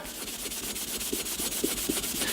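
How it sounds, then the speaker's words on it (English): A rag loaded with Brasso rubs back and forth over tarnished brass chime bars from a 1939 NuTone Model B two-note door chime, a steady close scrubbing with faint rhythmic strokes and small squeaks and no voice. "all you do is put some Brasso on a rag, and you pick a spot to start, and you start rubbing"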